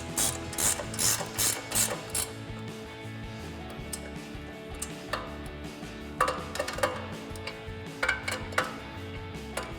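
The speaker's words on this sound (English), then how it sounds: "We're going to use the same 21mm ratcheting wrench and tighten our castle nut." A 21mm ratcheting wrench tightens a castle nut on the steering knuckle of a RAM 1500 truck, giving rapid clicking ratchet bursts in quick strokes, pausing, then resuming with more clicks.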